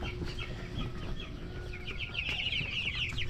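Chickens cluck and chatter close by in a coop, where one bird is weak and listless. Repeated short clucks rise into a louder run of calls against a busy, rumbling farmyard background with no talk.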